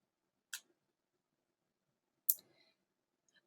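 Two sharp, isolated clicks of a computer mouse, about two seconds apart, the second followed by a faint rattle, then near silence; no talk.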